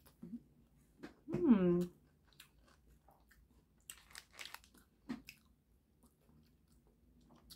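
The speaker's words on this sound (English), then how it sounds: "Corn tortilla, some steak, onion, and cilantro. First bite." A close, crunchy bite into a corn tortilla taco filled with steak, onion and cilantro, followed by a short murmur and quiet, soft chewing sounds.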